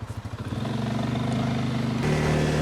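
A farm bike engine on a sheep farm at lambing time, a few sputtering pulses that settle into a steady nearby idling drone, then a slightly higher, stronger running note near the end.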